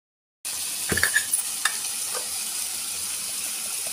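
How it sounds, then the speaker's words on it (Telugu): Tamarind dropped into a frying flaxseed chutney mixture sets off a steady close sizzle, with a few stirring clinks and scrapes at the start before settling into constant frying hiss. "దీన్ని కొంచెం చింతపండు వేస్తాము."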